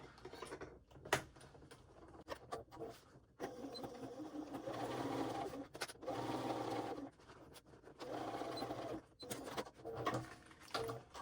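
A sewing machine bastes a straight edge on a waist pack, a close mechanical hum that starts and stops in several short bursts separated by quiet pauses and small clicks.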